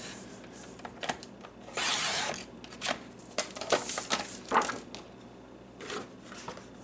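Scissors cut through paper or cardstock for a craft gift set, heard as several close, crisp bursts of snipping and sliding blade noise, spaced irregularly, with one longer continuous cut in the middle.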